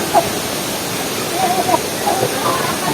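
Mantong Falls pours with a steady, broadband rush of water, a continuous wash that fills the scene at moderate loudness while people nearby talk and call out over it.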